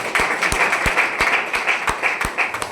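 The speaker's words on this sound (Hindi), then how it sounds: "अरुण कुमार वैष्णव के लिए एक बार जोरदार तालियां।" A seated audience at a business recognition gathering gives a loud, steady round of applause, with individual claps cracking through the dense clatter and a faint voice or two underneath.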